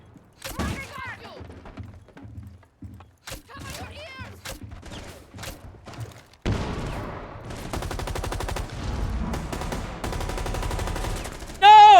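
Gunfire from Rainbow Six comes first as scattered single shots, then turns into sustained rapid automatic fire that runs for several seconds, loud and close, with no voices.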